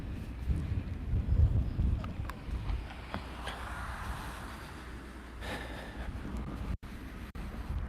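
Wind buffeting an outdoor headset microphone, a low rumbling roar that swells and fades, with scattered clicks and brief dropouts.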